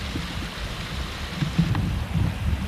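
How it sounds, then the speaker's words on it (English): Rainwater runoff flows steadily after heavy rains near the Campo landfill site, a constant low wash with some faint splashing in the background and no talking. "so you can hear the water go in the background here"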